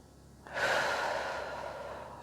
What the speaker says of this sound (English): Take a deep breath in, out through the mouth, in through the nose.